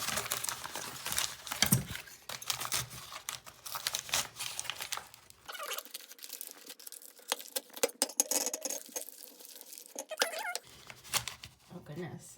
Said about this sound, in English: I'm just using these like ad papers, and I'm kind of crumpling them up